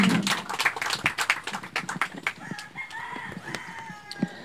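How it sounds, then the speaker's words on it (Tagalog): A church congregation at a Thanksgiving Day gathering claps in dense, close applause that fades after about two seconds, as a rooster crows in the background. "Atong palakpakan."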